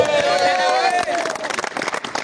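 A crowd at a cricket prize ceremony, after the Paa Super League final, breaks into brisk clapping as a tonal voice or music fades out, and the claps continue with talk over them.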